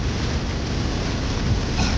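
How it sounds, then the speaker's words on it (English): Heavy rain pours down steadily during a summer vacation in New Orleans, Louisiana, a dense, continuous hiss and roar with no pauses and no voices. "now it's raining really hard"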